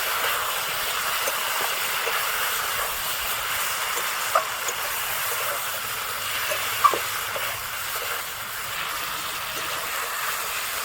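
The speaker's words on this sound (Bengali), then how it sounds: "লঙ্কার গুঁড়ো দিয়ে দিচ্ছি আর হলুদ গুঁড়ো দিয়ে দিলাম, দিয়ে খুব ভালো করে কষাবো" Potatoes with chilli and turmeric powder sautéing in oil in a village kitchen give off a steady broadband sizzle and hiss, with a few faint scrapes and taps standing out over the continuous frying noise.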